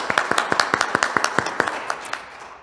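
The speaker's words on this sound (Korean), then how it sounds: "부제품을 받은 우리 디모데 부제님 위해서 함께 축하의 박수를 부탁드립니다" A congregation at Sunday Mass in a Korean Catholic parish applauds to congratulate a newly ordained deacon: a brisk patter of several people clapping, close and lively, tapering off gradually toward the end.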